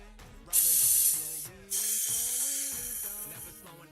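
Two bursts of aerosol clear coat hiss out as satin finish is sprayed onto a pair of shoes, the first about a second long, the second longer and tapering, both loud and close.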